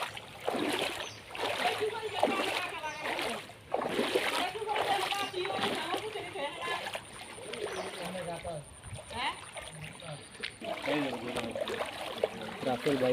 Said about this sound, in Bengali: এখন আমরা এই যে পানির মধ্যে দিয়ে আপার বাসায় যাচ্ছি। রাস্তার উপরে কিন্তু পানি